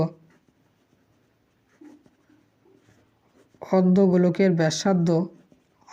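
Pen writing out a maths solution on paper for a Madhyamik 2025 test paper problem, faint intermittent scratching strokes at first, followed by someone talking close up over the end of the writing.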